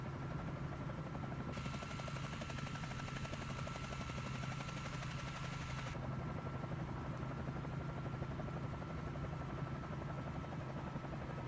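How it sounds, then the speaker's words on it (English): Helicopter flight in Microsoft Flight Simulator 2024, a steady droning rotor and engine hum with a continuous low tone, unbroken for the whole stretch at moderate level with no talk over it. "I can show you after I'm done with this helicopter flight here"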